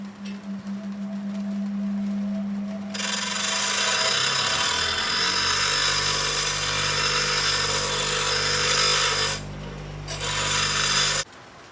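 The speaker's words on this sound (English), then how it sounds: "I'll just grind that off from the grinder and make a smooth section" An angle grinder spins up and grinds off a threaded section of metal on a supercharged postie bike radiator mount build, giving a loud, steady, harsh whine close by, with a brief dip before finishing.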